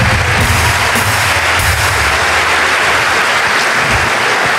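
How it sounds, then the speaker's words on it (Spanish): Loud, dense applause from a comedy show audience, a continuous roar of clapping with heavy low rumble, sustained without pause throughout. "Un fuerte aplauso"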